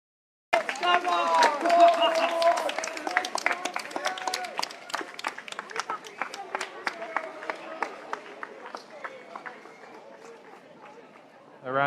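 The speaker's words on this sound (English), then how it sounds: "A round of applause there for the sacrifice these rebels are making." A crowd at an Extinction Rebellion protest claps in a scattered, uneven round that starts strong and thins out over several seconds, with a voice talking over it.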